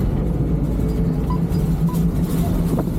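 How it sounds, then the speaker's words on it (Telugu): A Repalle bus on the move gives off a steady, continuous low engine rumble with road noise, close and even throughout, with no voices. "మనం రేపల బస్సు చూస్తున్నాంగా."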